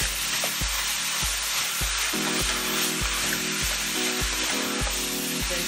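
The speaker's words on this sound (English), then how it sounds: "we can add in our ground beef" Ground beef sizzles and fries in a pan for a cottage pie, a steady close crackle broken by regular scraping stir strokes about every half second, with no talk.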